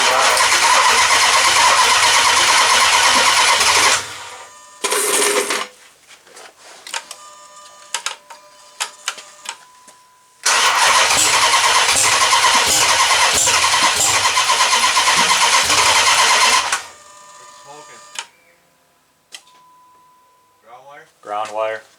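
A Dodge Magnum's engine cranks and roars to life, running loud for several seconds, cutting out, then firing and running hard again before dropping away; voices talk in the quieter gaps.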